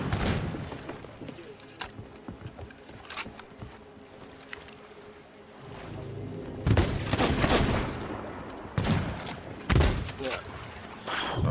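Sniper rifle shots in the pirate video game Sea of Thieves: a few sharp, separate cracks spaced several seconds apart, heard over game ambience, ocean and ship noise, with people talking now and then.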